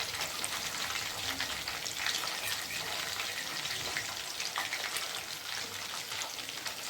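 Chicken wings fry in hot oil, a dense, steady sizzle with crackling pops throughout, close and fairly loud with no talking.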